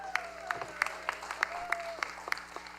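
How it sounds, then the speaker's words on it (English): A small crowd applauds at Ontario's Best Butter Tart Festival during best-in-show judging. The claps come as a fairly quiet, evenly spaced patter for about three seconds under a faint steady tone. "round of applause for our celebrity judge, Ben Mulrooney."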